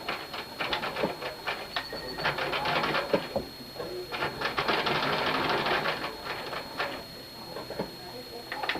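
A sewing machine runs a straight stitch with a quarter-inch seam allowance on a surgical cap, its rapid needle chatter in several bursts with brief pauses between runs, close and fairly loud, with a faint high whine underneath.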